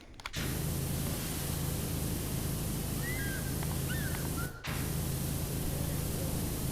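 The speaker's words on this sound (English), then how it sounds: "Oh, I'm randomly spraying." A pressure washer in the game PowerWash Simulator sprays in a loud, steady hissing rush that cuts off briefly near the middle and then resumes.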